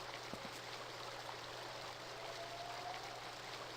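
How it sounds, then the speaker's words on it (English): A waterfall in the video game The Dig, a steady broadband rushing hiss of falling water, continuous and even throughout, with no voices. "That's a waterfall."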